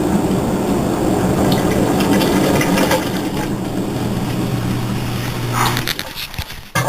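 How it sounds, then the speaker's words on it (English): Whirlpool Cabrio top-load washing machine running its spin cycle, a loud steady whirring hum with sloshing water that holds on, then drops away near the end. "It's going to spin, sound like a jet engine."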